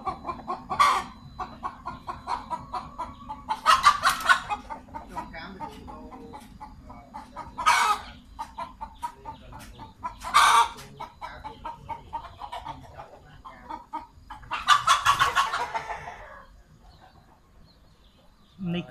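Breeding hens in a model farm pen in Kampong Thom give a run of clucks and calls in bursts every few seconds, fairly close, over a steady low background hum.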